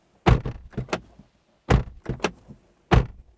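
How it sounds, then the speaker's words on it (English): Three solid thuds from a 2023 BMW X3's doors being shut, spaced apart with quiet gaps between them; each closure has a firm, heavy impact followed by a short latch-like tail. "It all feels really nice and solid in our door test."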